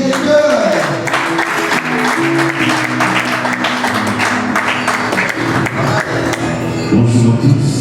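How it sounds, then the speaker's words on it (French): A conference audience in Kinshasa gives the director loud, sustained applause: dense clapping fills the hall continuously, with music and a few voices faintly underneath. "Applaudissez très fort pour le directeur."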